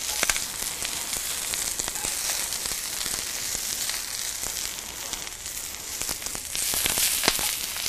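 Brussels sprouts frying in bacon grease in a pan give off a steady, dense sizzle with scattered pops and crackles, close by and continuous, growing slightly louder near the end.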